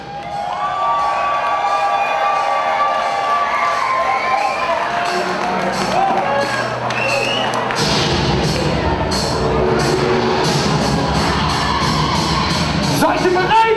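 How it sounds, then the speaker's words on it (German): A packed crowd at a dance battle event in the Aladin/Tivoli complex roars with cheers, whoops and applause for the crew Neon Light, loud and continuous, with scattered shouts and yells rising throughout. "Eine Runde Applaus für Neon Light"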